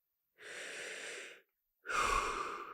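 Slow, deliberate breaths during a calming exercise, one long airy inhale followed after a pause by a louder, fuller exhale, close to the microphone in an otherwise silent room.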